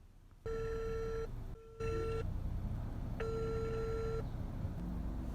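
A phone call rings out unanswered: a steady electronic ringback tone sounds in two long bursts separated by a pause, clear and close over a low hum of background noise.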